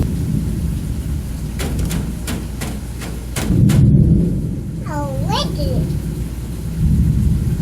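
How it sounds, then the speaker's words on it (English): A low rumble of thunder rolls under the steady hiss of rain, with sharp clicks and a voice chattering nearby. "This storm is crazy."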